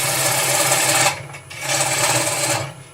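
A gouge on a wood lathe faces off a spinning woodturning blank, giving a loud, steady rasping cut that drops away briefly midway and then resumes, with no talk.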